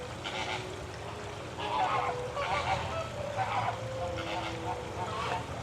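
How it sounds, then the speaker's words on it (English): Juvenile flamingos honk in a series of nasal calls at a moderate distance on Bull Island, Charleston, a few loose bursts over steady outdoor background noise. "The flamingos are talking."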